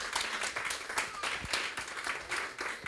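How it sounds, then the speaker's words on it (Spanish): A church congregation applauds during a sermon, with dense, steady clapping from many hands that is moderately loud and fills the room without a break. "Dale ese aplauso al Señor."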